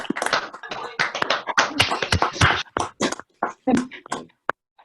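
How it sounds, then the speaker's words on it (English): Online meeting participants clap after unmuting, scattered uneven bursts of hand claps and taps from separate microphones, thinning out toward the end. "get everybody to give Dino a real big round of applause"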